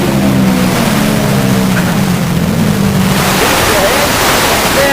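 Sidecar racing motorcycles at Tamworth Speedway roar loudly and continuously as they pass, while a commentator talks over the engine noise.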